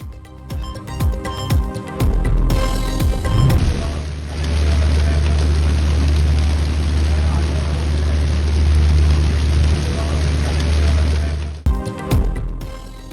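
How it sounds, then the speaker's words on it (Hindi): Heavy downpour in Lahore, a broad steady roar of torrential rain and running water holding for about eight seconds, framed by brief stretches of talk and traffic-like noise before and after. "लाहौर में मूसलाधार बारिश ने जल थल कर दिया।"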